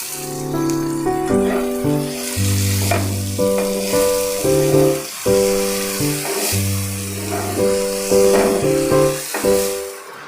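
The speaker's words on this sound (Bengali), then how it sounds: "এবার একটা পেঁয়াজ ছোটো ছোটো করে কেটে নিয়েছি ওইটাও দিয়ে দেবো" Finely chopped onion fries in a pan with a steady, loud sizzle and hiss while it is stirred, heard under continuous background music, with no talking.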